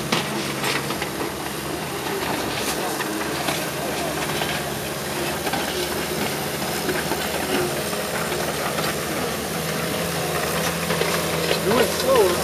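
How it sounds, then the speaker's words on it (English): A worn machine running a Michelin Tweel demonstration gives a continuous mechanical clatter and knocking rattle over a steady engine drone, close and constant throughout. "Everything you hear rattling is a part of wear."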